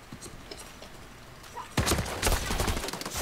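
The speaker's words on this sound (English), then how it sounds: "Shot heard." Rapid bursts of gunfire erupt in the Super Mecha Champions battle royale on Android after a quiet stretch, loud cracks repeating in a clustered volley through the final second and a half.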